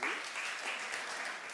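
A comedy club audience bursts into applause at a stand-up show, dense and bright clapping that stays fairly even and close for a brief moment, with no talk over it.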